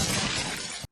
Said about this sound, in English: she gets jump scared into falling into a glass table